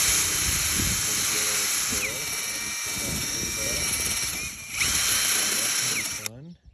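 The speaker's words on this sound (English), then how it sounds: "I got the new Hyper Tough drill with this thing on it." A Hyper Tough power drill with a sanding attachment whirs loudly with a steady high whine and rough grinding, while muffled voices carry on underneath.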